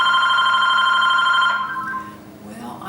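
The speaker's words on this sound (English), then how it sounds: "I'm just going to let the answering machine get that as I'm working." A telephone rings with a steady electronic trill in a home art studio where someone is painting, then it cuts off and a quieter room tone follows.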